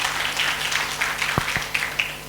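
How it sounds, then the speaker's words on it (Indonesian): Audience applause for the governor and vice governor at an inauguration ceremony in North Kalimantan, a steady wash of clapping from a crowd with a few sharper claps standing out near the end. "Tepuk tangan untuk Pak Gubernur dan Wakil Gubernur."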